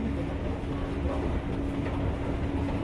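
A metro train rolls along with a low, continuous rumble and steady rail hum, heard from inside and fairly loud throughout.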